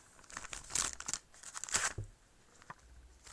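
Foil wrapping torn and crinkled off a basketball trading card box, a few quick close crackling rips with short pauses, fairly quiet.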